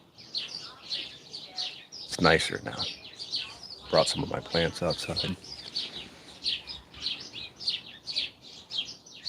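Birds chirp and tweet outdoors throughout, with a person talking over them for a stretch in the middle.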